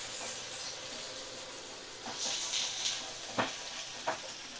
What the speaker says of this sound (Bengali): তো ভালো করে মশলা আমি নাড়াচাড়া করে নেব।